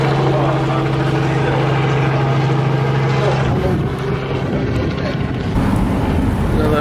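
A helicopter flying overhead: a loud, steady engine drone with a beating rotor-like hum dominates throughout, shifting partway through as the roar swells and rumbles.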